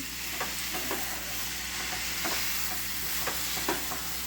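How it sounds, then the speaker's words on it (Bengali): Lentils for khichuri fry quietly in a pan, a soft, low sizzle with a handful of light scraping stirs spaced through, close and faint with no talking. "এর ভিতরে এবার ডালটা দেবো, ভালো করে ভেজে নেবো আর কি"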